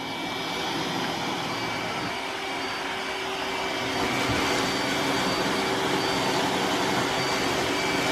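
An iRobot Roomba s9+ robot vacuum runs on a hard floor with a loud, steady whirring drone and a high motor whine, heard close by and alone, growing slightly louder partway through.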